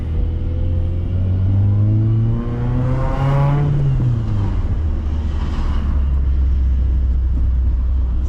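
A manual car with a long shifter and an alignment problem revs and accelerates while driving, its engine pitch climbing through gears, then easing off into a steady low rumble, heard close from inside with no talk.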